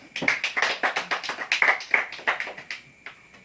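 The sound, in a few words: classroom applause for the students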